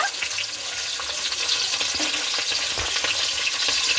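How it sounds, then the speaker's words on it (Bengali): Green beans fry in ghee for fried rice, giving a steady, dense sizzle with occasional stirring scrapes close by. "বিনসটা কিন্তু আমি খুব ভালো মতো করে ভেজে নিয়েছি"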